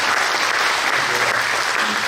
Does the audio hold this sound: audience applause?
yes